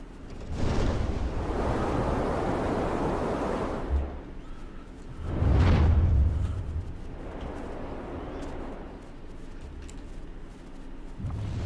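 Wind gusts in the video game Never Alone roar steadily as a broad rushing wash, swelling into a louder surge midway before settling back to a continuous blustery drone.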